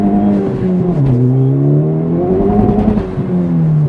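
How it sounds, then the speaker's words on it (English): A manual-transmission car engine sits held at a steady rev limiter of about 3,100 rpm ahead of a launch on a rainy day, a loud, close droning hum with slight pitch wobbles and no voices. "The car will basically let you do a launch to where you can pedal to the floor"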